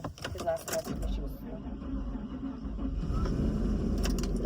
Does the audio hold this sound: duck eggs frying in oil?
no